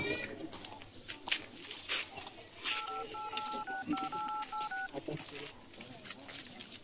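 A phone keypad sends a rapid run of dual-tone dialing beeps while a call is placed, about ten clear tones in a steady rhythm over chatter and street-like background noise, with people talking around it.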